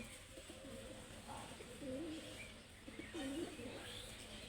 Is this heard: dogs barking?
no